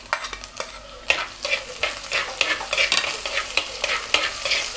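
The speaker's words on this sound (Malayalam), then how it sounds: "ഇത് നന്നായിട്ട് വഴന്ന് വരണം." Ginger, garlic, slit green chilies and curry leaves sautéing in oil for a Kerala fish molee, a close, crackling sizzle broken by repeated stirring scrapes, without any talk.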